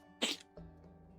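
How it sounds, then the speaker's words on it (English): One short, sharp sneeze close to the microphone, followed by a faint lingering tail of noise in a quiet room. "Big sneeze."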